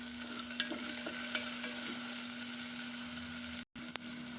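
Tomatoes, green chili and carrot sautéing in a pan, a steady close sizzle with scattered scrapes and taps of stirring, briefly cut off near the end.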